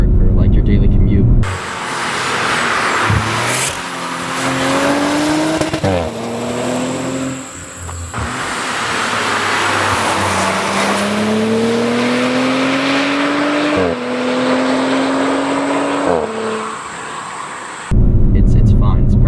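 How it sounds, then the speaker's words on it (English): A car with valved exhaust cruising in comfort mode, giving a subdued engine drone that climbs in pitch with each gear and drops at the shifts, steady and moderately close, with talking at the start and end. "In comfort mode, you can barely hear the exhaust at all. And that's thanks to the valves on the exhaust."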